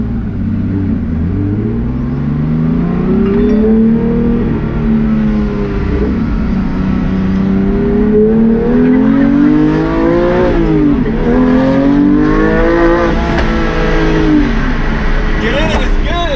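Porsche 911 GT3 fitted with a race exhaust, revving and rising through the gears while driving on a road, a loud continuous engine drone with climbing pitch from inside the car, a voice talking over it.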